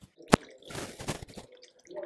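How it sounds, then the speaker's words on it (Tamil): Water is poured into a pot of chopped vegetables for sambar, giving a sharp splash followed by uneven sloshing and dribbling that tapers into quiet drips. "இப்போது நம்ம இதில் தண்ணி ஊற்றி இதை வேக விட வேண்டியது"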